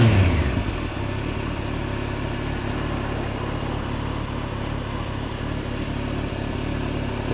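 A 2011 Kawasaki GTR1400 Concours motorcycle engine running close by, a steady, even drone after a brief louder start, with no one talking.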